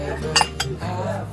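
Dishes clink a few times in quick succession, sharp and close, over a low background murmur.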